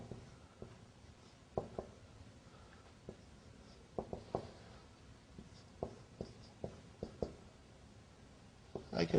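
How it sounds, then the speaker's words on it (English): Handwriting an explanation in Arabic script: irregular scratchy pen strokes and taps on paper, close and quiet, with brief pauses between bursts. "I'm writing the explanation."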